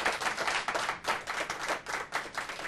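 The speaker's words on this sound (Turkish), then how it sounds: "Önce bir alkışları duyalım." A studio audience claps together in rhythmic waves, loud and close, the applause swelling and dipping several times without any speech over it.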